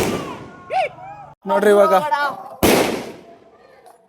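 A Deepavali firecracker goes off with a single loud, sharp bang that fades out, following a stretch of people talking over each other.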